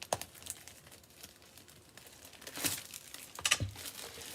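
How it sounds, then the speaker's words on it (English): Thick plastic kit packaging for card-making supplies crinkles and crackles as it is worked open, with a few louder crunching bursts toward the end; no voices. "This is good thick plastic material, so it's harder to open."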